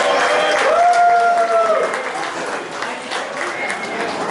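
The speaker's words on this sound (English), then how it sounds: "Can we give a big round of applause?" Audience at a race week dinner gives a round of applause, a broad wash of clapping and crowd noise that swells and then slowly fades, with a whistle cutting through early on.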